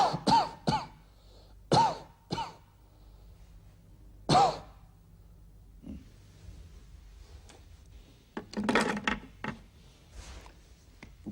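Several sharp coughs, close and loud, come in short bursts with pauses between, followed by fainter rustling and a cluster of quicker coughs near the end.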